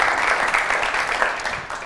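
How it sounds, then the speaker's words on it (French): Audience applause at a university event on mobility in La Réunion, a dense steady burst of many hands clapping that fades slightly toward the end. "On peut l'applaudir."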